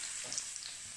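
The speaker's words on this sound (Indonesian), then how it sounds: "Pertama kita masukkan dulu bawang putihnya. Kita tumis sampai aromanya agak keluar." Garlic sautéing in hot oil in a pan for a garlic chili sambal, a brief steady close sizzle with a faint crackle and no talking.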